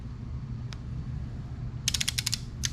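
A half-inch torque wrench set to 30 pounds tightens a bolt on a 440 engine, giving a quick run of sharp ratcheting clicks late in the clip over a steady low hum.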